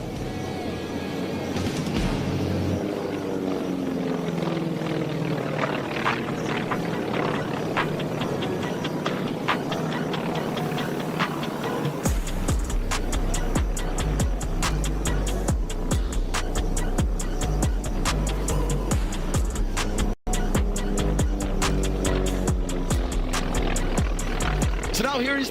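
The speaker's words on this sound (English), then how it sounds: "rumbling down the show line for a big, beautiful Barnstormers loop" An aerobatic propeller airplane rumbles down the show line and pulls into a loop during formation aerobatics at the Tinker Air Force Base air show. Loud engine roar fills the whole stretch and turns to a rougher pulsing drone partway through, with voices underneath.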